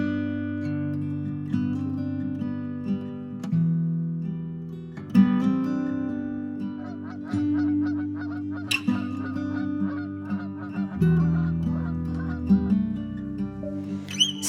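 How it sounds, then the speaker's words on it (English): Geese fly overhead in an open spring sky, honking loudly and repeatedly in an overlapping chorus of nasal calls that carries on for the whole stretch with no speech. "Skies all open wide, geese go high and over."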